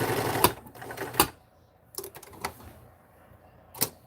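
A 1943 Montgomery Ward sewing machine stitches a seam and turns a corner, running in short, separate mechanical bursts with quiet pauses between them. The machine is close and moderately loud, with no talking.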